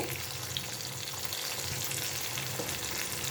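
Small shallots sauté in sesame oil in a pan for a Kongu-style tomato curry, a steady close sizzle with a constant hiss and no talking.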